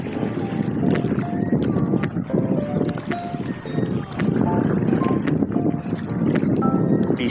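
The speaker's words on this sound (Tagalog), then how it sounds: "lakas ang hangin oh" Strong seaside wind buffets the microphone in a loud, continuous roar, with occasional knocks and clatter near a harbour where boats are moored.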